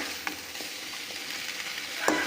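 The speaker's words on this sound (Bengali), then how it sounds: "চিংড়ি মাছগুলোকে আমরা লাল লাল করে ভালো করে ভাজা করে নিচ্ছি" Prawns frying in a pan, a steady close hiss of hot oil with a couple of brief spoon scrapes, the last one louder near the end.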